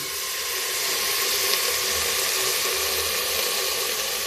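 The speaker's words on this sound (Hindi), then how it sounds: "अब हम इसमें पानी डाल देते हैं। देखिए गर्म पानी डालेंगे।" Hot water is poured into a pot of rice in a home kitchen, making a steady, continuous splashing rush that stays even throughout, with no one talking.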